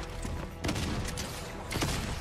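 Shotgun fire from a mythic shotgun in Fortnite during a close-range fight, heard as a few sharp blasts within a dense, noisy game soundscape.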